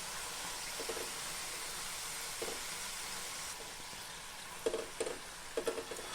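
Small wheat flour biscuits deep-fry in oil with a continuous hissing sizzle, and a few soft clusters of bubbling pops rise toward the end, quiet and close.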